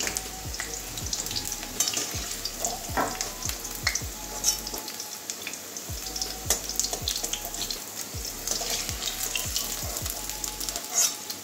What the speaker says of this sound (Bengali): খুব বেশি ভাজছি না, হালকা করেই ভেজে নিলাম আলুটাও তুলে নেব।